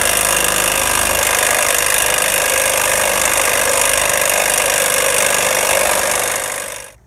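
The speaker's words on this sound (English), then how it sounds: "if you're fortunate enough to have a drill that's got some power behind it, he's going to tighten that one up, the nut" A powerful power drill runs steadily for about seven seconds, tightening a nut to press a rear wheel bearing into a 2008 Ford Escape. The loud, even whir stops abruptly at the end.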